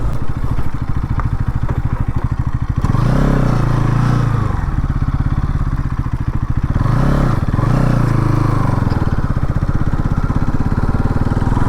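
A Bajaj Pulsar NS200 motorcycle engine runs loudly and steadily close by throughout, its pitch dipping and rising as the rider slows and turns.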